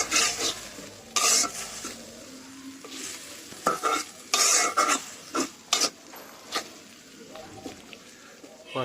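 Spice paste with salt and turmeric fries in a pan for chicken curry, a close sizzle cut by repeated spatula scrapes and stirring strokes against the metal, fairly loud, with faint speech in the background.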